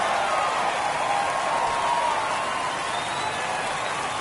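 Home baseball crowd cheering and applauding after a home run, a dense, steady roar of many voices and clapping filling the ballpark, loud and sustained without pause.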